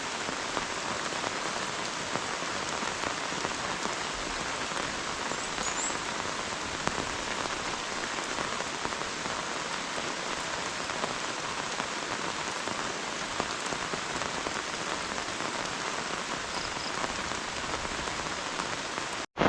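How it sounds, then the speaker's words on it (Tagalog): Steady heavy rain pours down on a surface, a dense continuous patter that holds evenly throughout with no voices. "Ayun na nga, umulan na nga."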